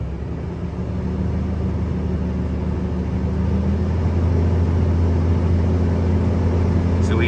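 Straight truck's diesel engine idling steadily, low and constant, while air brake tanks build pressure; a near, continuous rumble with no speech.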